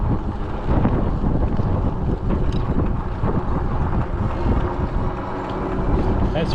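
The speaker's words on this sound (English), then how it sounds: "Go through a little area and it's really windy" Strong wind buffets the microphone during an early-morning bicycle ride, a loud, steady broadband rumble that continues without a break.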